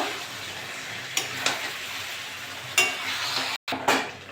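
Chicken pieces fry in spiced oil for a chicken and potato curry. The sizzle is loud and close, broken by a few scraping stirs of the spoon against the pan and one brief dropout near the end.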